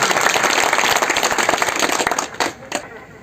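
An audience clapping at a public inauguration ceremony in Taranagar, dense sustained applause for about two seconds that thins out into a few scattered claps and faint crowd noise.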